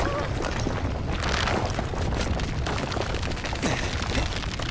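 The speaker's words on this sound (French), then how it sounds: "ça doit être l'explosion de la mine là" A mine explosion in the video game Life is Strange: True Colors rumbles as a loud, continuous roar of debris and noise, dense and unbroken throughout.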